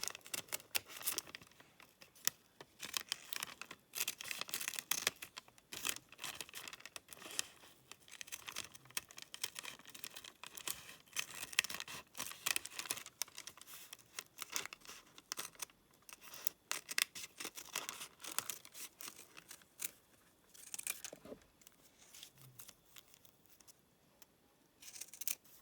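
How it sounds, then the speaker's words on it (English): Scissors snip steadily around a paper blackbird pattern piece, a close, dense run of crisp cuts and paper rustles that goes on almost continuously, with a few brief pauses and no talking. "I'm just going to hold it on the top and cut round."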